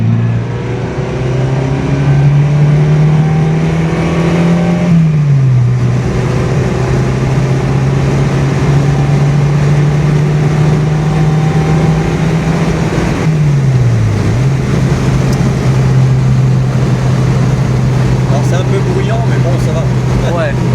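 A loud Fiat X1/9 sports car engine drones steadily, its pitch climbing slowly and then dropping sharply twice as it shifts gears and keeps pulling hard.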